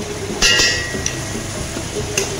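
Onions, curry leaves and garlic frying in a pan for biryani, a soft continuous sizzle with a few sharp clinks of a spoon stirring against the pan.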